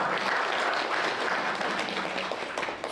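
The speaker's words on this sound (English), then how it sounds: "Everybody give Mary a round of applause there for pointing off." An audience at a women's lunch-and-learn presentation for a retirement group claps in a steady, dense round of applause that holds strong before tapering slightly, with faint murmuring underneath.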